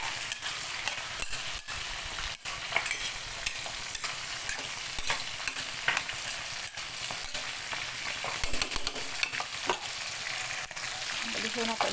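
Meat frying in a pan, stirred constantly: a dense, steady sizzle with frequent scraping and clacking of the utensil against the pan, close up and continuous, with a voice speaking briefly.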